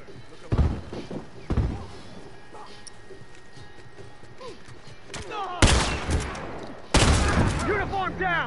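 Turret gunfire in The Last of Us multiplayer match: several sharp, loud bursts of shots, two short ones early and two heavier volleys later, over background game noise and voices.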